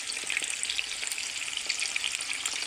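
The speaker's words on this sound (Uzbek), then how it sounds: "Kaptar mana hozir qovuryapmiz kaptar go'shtidan." Pigeon meat fries in a pan with a continuous loud, crackling sizzle of hot oil, close and unbroken throughout, with no talking.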